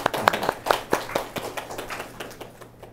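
A small audience claps after a talk on consumption and graphic design, a few distinct sharp hand claps at first blending into a looser, thinning patter that fades away by the end.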